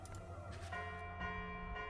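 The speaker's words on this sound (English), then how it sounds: "Suddenly, a bell begins to toll over Opacum." A church bell tolls over the city of Opacum in Ash of Gods, with layered, sustained metallic strikes ringing out and overlapping as each new toll sounds.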